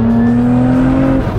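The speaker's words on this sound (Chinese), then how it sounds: "它是 V6 的中置的机械增压手动挡前后双叉臂的一台超跑" A Lotus Emira, a supercharged mid-engine V6 sports car, gives a short, loud, close burst of engine sound with a strong steady tonal drone and heavy low rumble.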